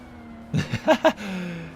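A race car engine in Forza Motorsport drones steadily in the background, faint and continuous, with a few short vocal exclamations over it midway.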